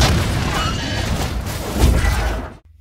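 A loud, rumbling bomb blast in a film with crashing debris fills the scene, a second heavy boom swelling near the end before everything drops abruptly to silence.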